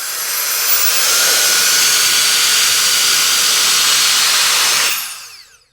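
An APF-01 turbocharged electric air blower fan runs at high speed with a loud, steady rushing roar for several seconds before it cuts off and winds down.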